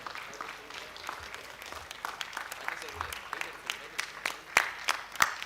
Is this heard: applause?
yes